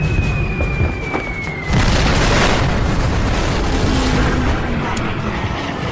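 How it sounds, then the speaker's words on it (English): Heavy 1,000-pound bombs burst against the battleship Yamato in a loud, rumbling explosion that swells after a sustained roar and leaves a dense wash of noise, like an archival wartime combat recording. "Ferry's bombs strike aft of the battleship's superstructure."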